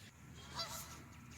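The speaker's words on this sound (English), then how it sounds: "It's all geese and a swan out there this morning." Geese honking at a campground duck and goose pond by a lake, one short honk in the distance, faint and quiet over soft outdoor background noise.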